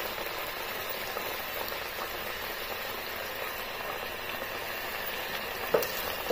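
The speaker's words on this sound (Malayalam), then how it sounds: "കറി നന്നായിട്ട് തിളയ്ക്കുന്നുണ്ട്." A pot of simple no-coconut curry boils steadily at close range, giving a soft, even bubbling hiss that runs without a break, with one small clink near the end.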